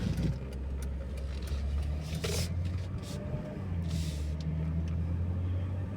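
A Mercedes W211 E320 Avantgarde with G-Tronic automatic transmission pulls away, its engine a steady low drone with a faint hiss of road and air noise and no one speaking.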